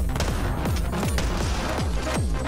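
Rapid, loud shotgun blasts in the action game Anger Foot fire in a quick repeating rhythm, each booming shot followed closely by the next across a busy, dense mix.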